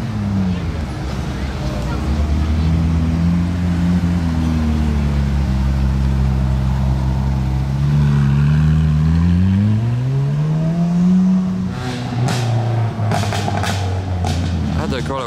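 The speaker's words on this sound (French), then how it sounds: "c'est Romain Laneri au volant de la 458 Spider" A Ferrari 458 Spider engine drones and rises in pitch as the car drives past, swelling and falling away near the end amid crowd chatter and voices on a street.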